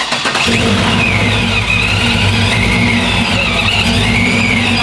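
A loud procharged 6.2-liter V8 engine in a Chevrolet C10 squarebody truck idles and revs close by, with a deep steady rumble and a high supercharger whine rising and falling above it; no one talks.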